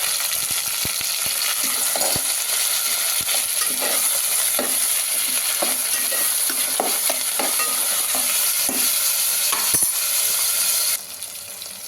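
Curry leaves, tomato, mint and coriander fry in a pan for brinjal pulao, giving a steady, loud, close sizzle with scattered clicks and scrapes of stirring throughout, easing slightly near the end.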